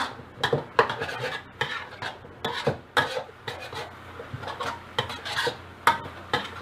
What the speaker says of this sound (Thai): ผัดให้เข้ากันอีกรอบค่ะ ไฟแรงนะคะ